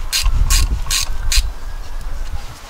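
A ratchet tightens bolts by hand on a Vauxhall Corsa. There are four quick, crisp clicking bursts in a steady rhythm, close to the microphone, then quieter handling noise.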